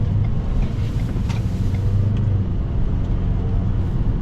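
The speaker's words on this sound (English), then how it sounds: "with the all-terrain tires, you're going to get some wheel noise, some tire noise on the ground" A 2024 Ford Maverick Lariat AWD with the Tremor package and all-terrain tires cruises along, its tire and road noise forming a loud, continuous low rumble heard from inside the cabin.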